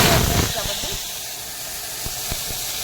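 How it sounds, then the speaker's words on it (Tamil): Cinnamon, cloves, cardamom and curry leaves dropped into hot boiling oil give a loud hiss that settles into a softer sizzle, with a few faint clicks. "எண்ணெய் கொதிச்சிருச்சு. பட்டை, கிராம்பு, ஏலக்காய், கருவேப்பிலை தாளிச்சிடணும்."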